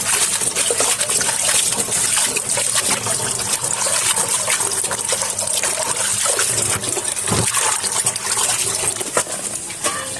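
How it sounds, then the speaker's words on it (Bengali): Leafy greens being rinsed in water, with steady close splashing, trickling and gushing throughout, with no talk. "এখন ধুয়ে নিব, শাকগুলো ধুয়ে নিব।"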